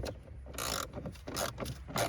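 A ratchet with a 7 mm socket loosens the dashboard bolts on a 2000–2007 Ford Focus, giving a few short, close, raspy clicking bursts in quick succession with no talking.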